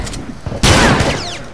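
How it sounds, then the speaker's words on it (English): Gunfire erupts in The Last of Us Remastered, a sustained burst of overlapping shots and loud impacts that swells suddenly midway and stays dense to the end, with no talk over it. "They're all shooting me."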